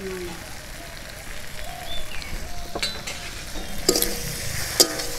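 Okra cooks in a pan over medium heat with garam masala for bhindi do pyaza, a soft, steady sizzle with occasional clattering stirs near the end, while faint voices sit in the background.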